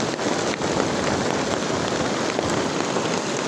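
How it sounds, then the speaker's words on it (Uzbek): Walnut-sized hail in Qarshi, Qashqadaryo, Uzbekistan pelts down as a dense, steady roar of impacts, loud and unbroken for the whole stretch, with no voices. "Do'ldi kattaligini qaranglar, do'ldi kattaligi."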